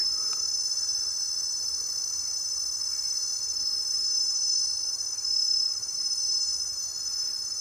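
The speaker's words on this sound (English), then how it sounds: "Here we have cicadas." A steady, high-pitched insect drone of cicadas, continuous and unchanging throughout, with a faint low rumble beneath and no voices.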